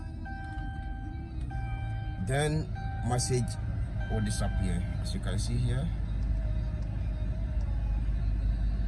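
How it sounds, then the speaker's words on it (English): Dodge Charger engine idling at a steady low rumble throughout, after ignition, with a person speaking over it and some intermittent electronic chime tones. "Start the car."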